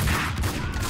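Gunfire in the video game Max Payne 2, a dense continuous burst of rapid shots across the whole second, loud and close with no voices on top.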